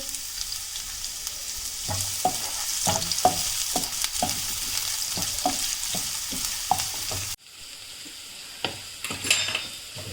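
Two cups of onions frying in a pan for mutton sukka, a bright steady sizzle with rhythmic spatula scrapes, dropping abruptly to a quieter sizzle with a few clinks near the end.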